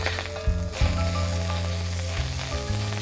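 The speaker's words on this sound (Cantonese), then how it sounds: "將啲雞髀肉咧入去煎一煎佢" Chicken thigh meat pan-frying in a little leftover oil in a wok that was just used for frying eggplant, a steady close sizzle with low rumbling tones and a few shifts as the pieces settle or are moved.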